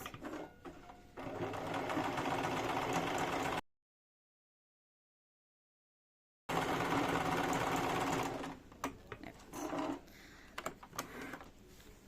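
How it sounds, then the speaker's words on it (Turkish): A sewing machine running a zigzag stitch on fabric for a door organizer, a close steady mechanical whir in two bursts separated by a silent gap, then stopping into sparse clicks and handling sounds. "Makine ayarından zikzak dikişle bunun e, ağız kısımlarını ben kapatmış olacağım"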